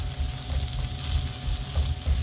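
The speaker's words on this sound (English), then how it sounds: "we're going to cook this for about 3 to 5 minutes stirring while we cook." Tomato paste and mirepoix fry in a pan while being stirred, a close, continuous sizzle with soft irregular scraping.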